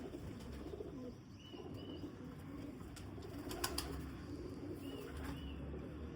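Pigeons from a flock of high-flying golden pigeons coo softly in a bird loft setting, with brief chirps and occasional wing sounds over a steady low background rumble; no one speaks.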